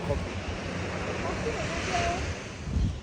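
Ocean waves at a seashore in Australia, with a continuous broad roar of surf mixed with wind buffeting the microphone. The wash stays steady and swells slightly near the end.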